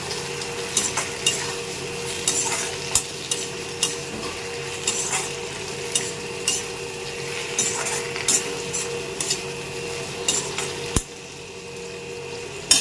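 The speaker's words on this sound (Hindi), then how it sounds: "सब्जी तो भुन ही रही है, मसाला भुन रहा है" Vegetables and spice paste frying with tomatoes in a pan, a steady close sizzle broken by regular scraping and clinking of a spoon stirring against the pan.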